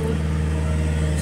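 A car with a driver learning to release the handbrake and move off gives a steady mid-pitched engine drone, held fairly level with a low hum beneath, while people talk over it.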